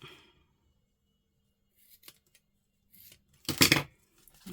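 Scissors cutting paper ephemera for a journal, a couple of faint snips followed by one louder, close crisp cut, with near-silence between.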